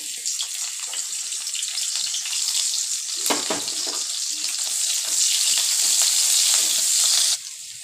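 Nigella seeds, crushed garlic paste, green chili and chopped onion frying in hot oil, a loud continuous close hiss and crackle that builds and holds steady, with a brief clatter partway through.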